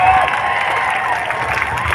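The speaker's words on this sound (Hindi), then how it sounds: "ये अभी आप ताली जल्दी बजा गए।" Crowd at a political rally in Solapur applauding and cheering, a dense, loud wash of clapping and voices sustained throughout.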